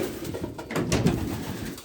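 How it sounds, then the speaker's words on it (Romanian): Pigeons in a small aviary coo close by in low, rolling, repeated murmurs that swell and fade over a couple of seconds. "porumbeii stau în volieră, în mini voliera noastră"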